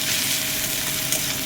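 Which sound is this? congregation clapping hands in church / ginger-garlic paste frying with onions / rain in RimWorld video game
ginger-garlic paste frying with onions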